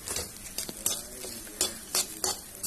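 Fish curry ingredients with lentils fry in a kadhai while a spoon stirs them, a continuous sizzle broken by repeated scraping strokes and clinks of the utensil against the pan, close and with no speech.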